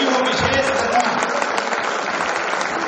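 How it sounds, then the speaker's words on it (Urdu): Sustained, loud audience applause fills a mushaira and kavi sammelan in Noida, a dense steady clapping wash from a large crowd with no talk over it. "آپ سب بھی بھرپور تالیوں سے نویدن کریں"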